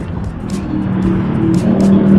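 A Kawasaki Ninja motorcycle rides past, its engine drone building steadily louder through the clip alongside general road traffic noise, with no talking.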